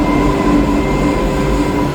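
A Kuala Lumpur metro train runs at speed, heard from inside as a loud, steady rumble with a constant whine and faint rattling, no voices over it.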